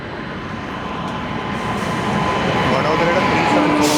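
A Vadodara–Kottayam special train creeps slowly along a railway line, its steady rumble and broadband roar building gradually in loudness as it draws closer, with a faint high squeal near the end.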